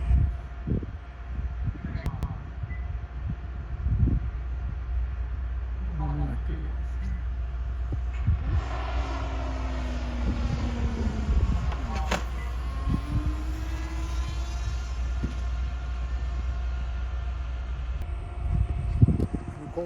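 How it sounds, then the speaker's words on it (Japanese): A fast drone, flying at around 100 km/h, approaches from a distance and passes by, its rising and falling whine sweeping across a low rumbling background while a person talks. "ドローン向こうから飛んできます。"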